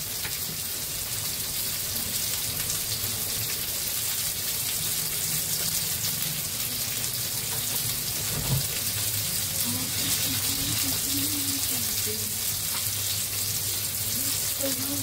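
Bombil fish, Bombay duck, fry crispy in a pan with a steady loud sizzle and crackle, stirred now and then, a brief clink midway, with faint talk underneath.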